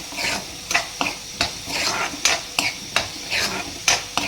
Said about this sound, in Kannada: ಒಂದು ಸ್ಪೂನ್ ಹಾಕ್ಕೊಳ್ತೀನಿ ಖಾರನ ಅರಶಿನ ಒಂದು ಚಿಟ್ಕಿ ಹಾಕಿ ನೀಟಾಗಿ ಫ್ರೈ ಮಾಡ್ಕೊಳ್ಳೋಣ